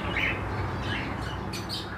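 A male pigeon calls in short, close squawking bursts, repeated over a steady low background hum.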